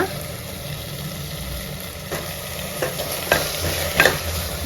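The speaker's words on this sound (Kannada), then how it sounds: "ಇದಕ್ಕೆ ನಾವು ಕಟ್ ಮಾಡಿರೋಂಥ ಬದನೆಕಾಯಿ ಸೇರಿಸ್ಕೊಳ್ಳೋಣ" Cut brinjal frying with softened tomato in a pan, a steady sizzle under a low background hum, with a few scraping stirs of a spoon coming louder toward the end.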